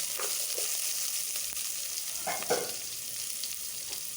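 Onion, curry leaves and asafoetida sauté in hot oil, a constant close sizzle broken by a few soft scrapes and knocks of stirring.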